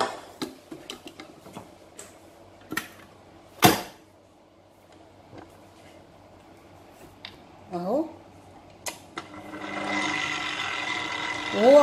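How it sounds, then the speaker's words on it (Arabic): An electric dough kneader starts mixing sweet sesame and chickpea dough for white Mawlid sweets. Scattered clicks and knocks come first, then the machine's whirring motor rises and runs steadily to the end. "هبدا بقى اشغل العجان"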